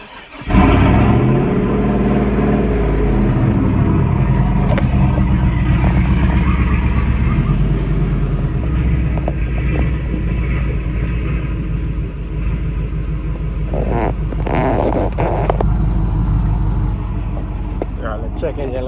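Car engine cranking to a start and then idling steadily and a little rough, with a faint uneven miss, in a car with water mixed into its engine oil and two used spark plugs; close, continuous rumble filling the clip.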